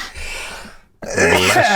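A single forceful sneeze bursts out after a brief breathy lead-in and a moment of silence, loud and close.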